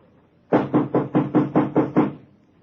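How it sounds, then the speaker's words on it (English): Eight firm, evenly paced knocks on a door, loud and close, followed by silence. "sounded like somebody knocking, didn't it?"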